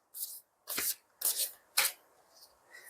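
A deck of new oracle cards is shuffled close up, with four or five quick papery riffle bursts separated by short pauses, soft and intimate in a quiet room.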